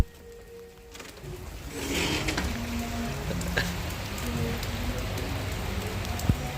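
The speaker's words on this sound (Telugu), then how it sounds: "చూడండి, చాలా వర్షంగా ఉంది, చాలా వర్షం ఉంది" Heavy rain pours steadily in Dubai, a dense broadband hiss that swells after the first second and holds, with occasional louder drops and splashes nearby.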